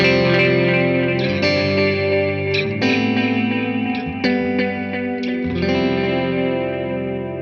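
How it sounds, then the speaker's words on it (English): Sustained electric guitar notes through a GFI System Orca delay and Skylar reverb bloom into a wash of echoing repeats and reverb, with new plucks layered over the ringing tail. "you're hearing a reverb just on the repeats"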